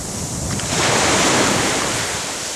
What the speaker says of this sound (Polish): Czekamy na falę. O, nie fala, nie fala. Poszła fala.